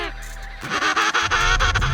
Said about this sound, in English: Imagine a penguin concert with all those unique sounds.